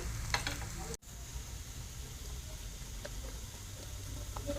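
A thalipeeth made from soaked chana dal roasts in a pan, a quiet, steady sizzle and faint crackle, briefly interrupted by a short dropout near the start.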